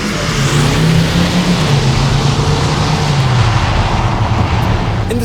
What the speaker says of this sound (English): while it's a diesel, it's a 4-cylinder, and it's artificially amplified